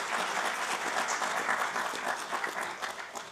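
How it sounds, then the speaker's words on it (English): Moderate, continuous clapping from an audience at a national business excellence awards ceremony in a hall, even and sustained with no speech over it. "Can we have a big round of applause for Dr."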